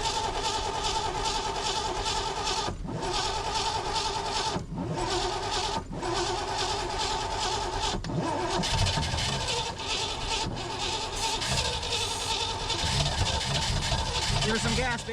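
An old Chevrolet 210 engine cranks repeatedly and struggles to catch, a steady rhythmic starter churn broken by a few short pauses, loud and near, with people talking over it.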